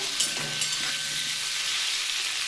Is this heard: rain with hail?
no